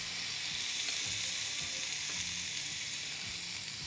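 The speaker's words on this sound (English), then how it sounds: "it's gonna sear these steaks beautifully" Flank steak pinwheels sear on a Ninja Foodi smart XL pro grill and griddle, giving a constant, even sizzle and crackle at close range with light scraping and no talking.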